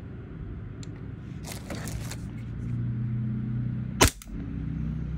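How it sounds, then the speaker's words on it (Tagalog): A WE G18 G4 airsoft pistol fires a single sharp, loud shot near the four-second mark during a chrono check, with lighter clicks earlier and a low background hum around it. "Chrono check tayo."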